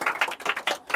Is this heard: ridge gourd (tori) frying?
no